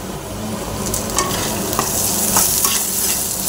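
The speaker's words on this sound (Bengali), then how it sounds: "পেঁয়াজ আদা রসুনটা প্রায় ভাজা ভাজা হয়ে এসছে।" Chopped onion, ginger and garlic fry in hot oil, a close, continuous sizzle broken by scraping stirs of a spoon against the pan.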